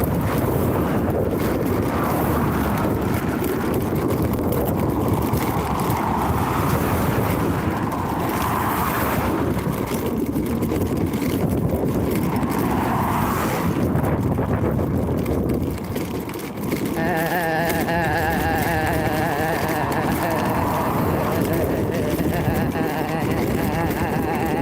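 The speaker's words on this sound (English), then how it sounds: "at least the wind's dropped a bit anyway" Wind gusting along the seaside promenade at Maryport, a steady broadband rush buffeting the microphone throughout, loud and close, with a faint tonal hum appearing near the end.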